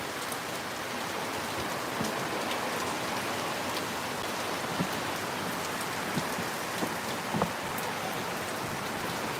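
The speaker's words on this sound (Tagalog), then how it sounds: "Ang lakas ng ulan, uy, nag-thunderstorm na." Heavy rain pours during a windy thunderstorm in Misamis Occidental, Philippines: a dense, constant hiss with scattered sharper drop impacts. No thunder stands out and no one speaks.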